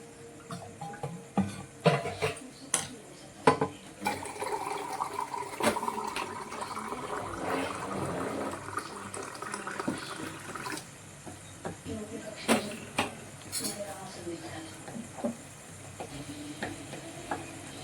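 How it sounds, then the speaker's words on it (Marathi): Water runs from a tap in a steady stream during hand washing, broken by occasional splashes and clinks. "आता धुवून घे सानू."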